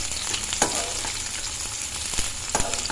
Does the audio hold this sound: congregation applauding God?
no